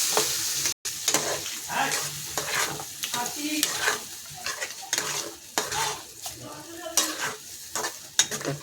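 Crab curry masala with salt being sautéed in a pan, close loud sizzling broken by rhythmic metal spatula scrapes and clinks against the pan, repeating every half second or so.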